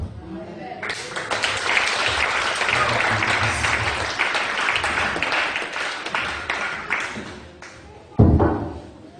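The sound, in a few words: congregation applauding the Lord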